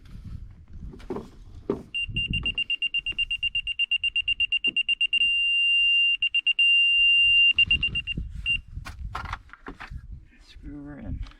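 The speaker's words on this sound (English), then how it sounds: "Take the beeper" Beeper sounding while a drain form is set out, close and high-pitched, first pulsing in rapid even beeps, then a steady tone and a few more pulses. Outdoor thumps and rustling sit around it.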